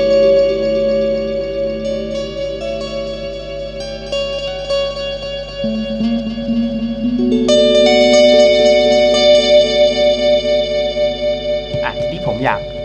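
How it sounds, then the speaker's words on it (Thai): Electric guitar played through a Nux NDR-5 Atlantic delay and reverb pedal, delay at 80 mixed with a little reverb, lets sustained notes ring into long echoing tails that swell and overlap. "ลองผสมกับดีเลย์บ้างครับสมมุติว่าผมอยากให้ดีเลย์มันเป็น80เนี่ยแบบเสียงเมื่อกี้เลยแล้วก็ปรับรีเวิร์บไปนิดนึง"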